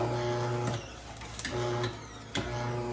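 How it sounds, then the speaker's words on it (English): Motor of a juicer spinning in reverse, a steady harmonic hum that cuts out and restarts twice, with brief clicks at each change. "I'm gonna stop my juicer and I'm going to let it spin counterclockwise"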